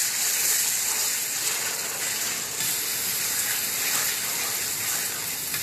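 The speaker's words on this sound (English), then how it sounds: "I'm just going to do it slowly, keep watching, because it'll dry out" Boiled kettle water pours slowly into a big pan, giving a continuous close hissing, fizzing gush that holds steady throughout with no voices.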